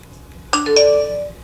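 A short phone notification chime rings out once, a bright two-part tone that sustains briefly and fades, close by in an otherwise quiet room.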